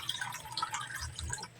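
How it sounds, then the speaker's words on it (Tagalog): Half a glass of water poured into a cooking pot of pinakbet with fish bagoong, a soft, quiet trickle and splash lasting under two seconds. "nilagyan ko na yan ng kalahating basong tubig"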